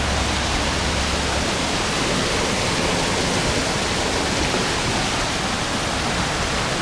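Cachoeira do Paredão, a very tall waterfall, gives off a steady, dense roar of falling water that fills the whole stretch at an even level, with no voices.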